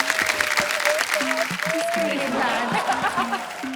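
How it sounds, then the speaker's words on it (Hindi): Studio audience on the KBC quiz show clapping in welcome, a moderate, steady applause from the crowd beneath overlapping speech and a brief chuckle. "सर, तालियों के साथ आपका स्वागत करता हूं"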